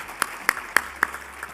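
Audience clapping at a spring awards ceremony, a few sharp, close individual claps spaced roughly a quarter second apart over a thin, quieter background of more hands, brief and fairly sparse.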